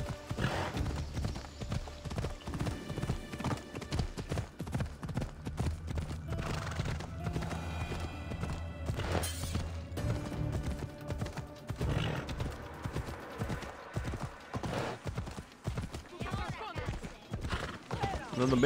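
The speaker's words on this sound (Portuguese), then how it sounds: "Coitado do cavalo. O cavalo é um sofredor." Horse hooves in Assassin's Creed Odyssey, a steady run of clip-clop steps with occasional whinnies over game music and ambience, while someone talks throughout.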